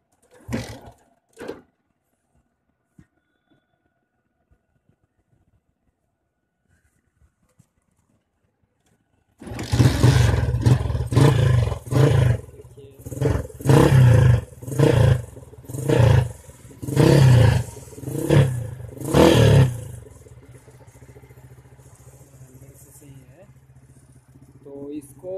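After a long quiet stretch with a few clicks, a Royal Enfield 100cc Bullet motorcycle engine is revved close by in a series of loud, repeated throttle bursts, then settles into a low, steady idle.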